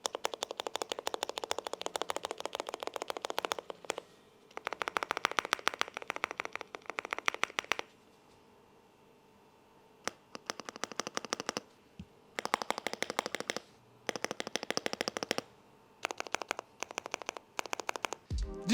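Rapid bursts of keystrokes on a custom aluminum mechanical keyboard with heavy linear switches, clattering in dense runs broken by short pauses, close and crisp with no talking.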